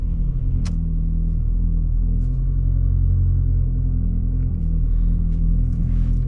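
A Toyota Corolla LE idles with a steady, low engine rumble, close and continuous, with no distinct start-up burst audible.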